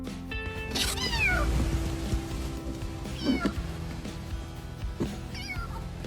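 A kitten gives three thin, high meows spaced a couple of seconds apart over a steady background hum, out in the desert.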